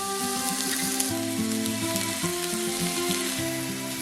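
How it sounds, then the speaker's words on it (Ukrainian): Onion fries in a little oil in a pan, a dense, even sizzle close by, with music playing underneath and no speech. "На пательню леємо трішки олії та відправляємо цибулю."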